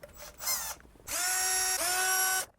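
A power drill or driver spins out 10mm bolts on a 2008-2009 Lexus LX570, giving a short whir, then a longer steady high whine that dips in pitch briefly before stopping.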